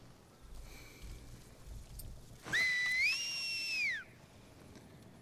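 In The Last of Us Part II, an enemy's signal whistle rises sharply, holds a steady two-tone pitch, then slides down and cuts off, loud and clear over low background noise.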